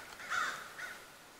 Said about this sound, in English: here comes these five crows